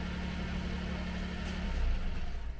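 A Daihatsu Hijet truck idling in neutral gives a faint, steady low engine hum, rising slightly toward the end, with no talk.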